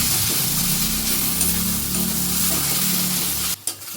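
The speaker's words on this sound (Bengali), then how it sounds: "রসুনটা আর পেঁয়াজটা ভাজা হয়ে গেছে" Garlic and onion fry in a pan with a steady, close sizzle and hiss under a low background hum, cut briefly by a clatter near the end.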